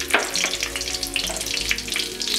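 Mustard seeds and halved red chillies spluttering in hot oil in a pan, a dense, steady crackle with sharp little pops scattered throughout, close and moderately loud, no voices.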